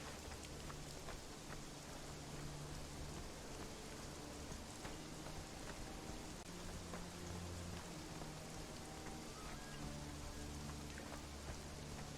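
Rain falls steadily in the video game Conan Exiles, a dense, even hiss of droplets with no voices, constant throughout at moderate level.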